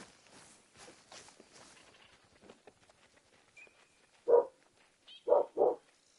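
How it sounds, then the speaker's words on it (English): A dog gives three loud, sharp barks near the end, one alone and then a quick pair, following quieter footsteps and faint background noise. "I hate dogs. That's why I hate dogs. Never shut up."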